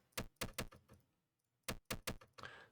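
Crisp, bright clicks from an indie video game, close and dry: three quick taps, a short pause, then another cluster of three, with a softer chime-like sound trailing at the end.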